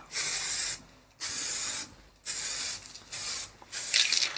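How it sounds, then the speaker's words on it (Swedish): An aerosol can sprays white primer onto a Volvo 740 part in bursts of steady hissing, five in all, each lasting about half a second to a second, separated by short silences, close and loud with no talking. "vi sprayar på här så får vi se hur det blir."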